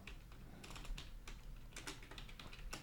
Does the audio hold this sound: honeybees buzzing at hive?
no